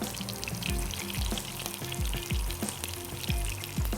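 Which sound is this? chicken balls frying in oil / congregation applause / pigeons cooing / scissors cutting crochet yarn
chicken balls frying in oil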